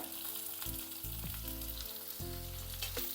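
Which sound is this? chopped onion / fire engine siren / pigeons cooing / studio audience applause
chopped onion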